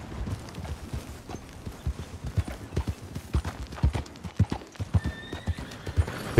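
Horse hooves clip-clop in a steady, rapid rhythm in the video game Red Dead Redemption 2 online on PS5, close and continuous, with a short whinny-like tone near the end.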